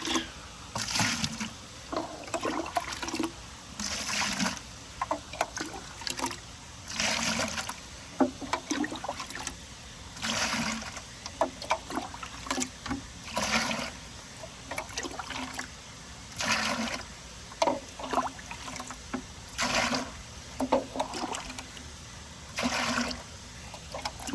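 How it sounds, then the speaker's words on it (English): Water being scooped and poured out of a 13,000 gallon reef tank, rhythmic repeated sloshing and splashing bursts every couple of seconds, close and fairly loud, with no speech. "I'm gonna take some water out."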